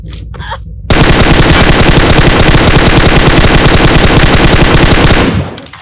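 Sustained automatic gunfire in PUBG Mobile, a very loud, close, rapid burst lasting several seconds after a brief quieter moment.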